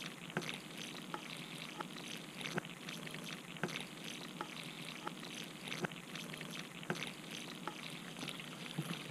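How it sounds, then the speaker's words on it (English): Water is poured into the well of a concrete mix, a soft, steady trickle with faint fizzing and bubbling that carries on throughout, low in level with no talking. "Pour the water into the well."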